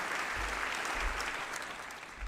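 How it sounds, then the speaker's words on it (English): An audience claps steadily for a volunteer being welcomed onto the stage at an entertainment show, a dense, continuous round of applause from a crowd with no speech over it. "Everyone give her a round of applause."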